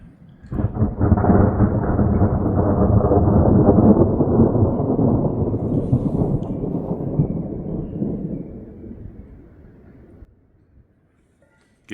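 Loud, close thunder from a mountain thunderstorm in a wilderness meadow rolls and rumbles for about ten seconds, then fades away into near silence.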